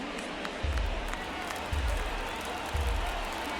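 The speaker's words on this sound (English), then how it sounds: "Crowd chants, let's go Red Sox again." A stadium crowd in the baseball video game MLB The Show 2024 keeps up a steady roar for a Red Sox chant, with three deep rhythmic thumps landing about a second apart over the continuous noise.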